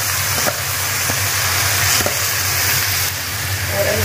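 Green chillies sizzle steadily in a hot pan with ginger garlic paste, a continuous close frying hiss with a few faint stirring knocks and no talking.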